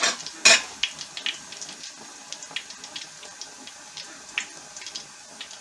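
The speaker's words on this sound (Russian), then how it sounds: "Беру пюрешку лука и смотрю, готово или нет у меня масло." Onion puree sizzles in hot oil for Uzbek Navoi-style plov, a steady crackling fry with sharp pops and spits scattered throughout, one loud burst near the start, moderately close.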